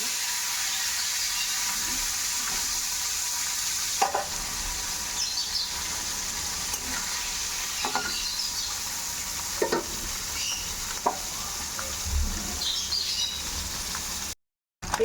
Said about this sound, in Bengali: তেল দেখো ভালো করে গরম করে নিয়েছি মরলা মাছগুলো ভেজে।